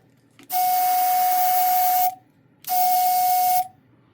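A Harbor Freight Black Widow dual air compressor gives two loud bursts of hissing air with a sharp whistling tone from a faulty valve, each about one to two seconds long, separated by a short silence.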